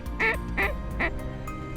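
Ducks quack three times in quick succession over an Idaho cornfield during a hunt, clear and fairly close, with a softer fourth call trailing off.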